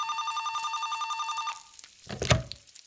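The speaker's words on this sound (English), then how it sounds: "the phone is about to ring" A telephone bell rings in a steady pulsing trill for about a second and a half, then stops, followed by clattering kitchen noise nearby.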